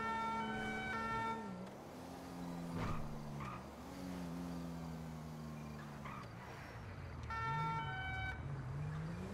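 A French gendarmerie two-tone siren in GTA 5 alternates between two pitches over a steady engine rumble, loud and continuous throughout.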